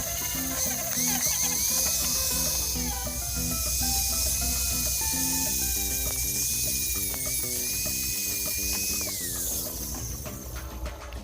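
A rotary tool runs steadily with a grinding stone or layered sandpaper disc shaping the gear of a homemade spear gun, a continuous high whine with a ratcheting mechanical texture throughout.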